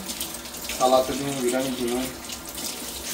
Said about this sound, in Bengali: এই পাশ দিয়ে দেখেন অনেকগুলা ধনে পাতা ধুয়ে নিতেছে।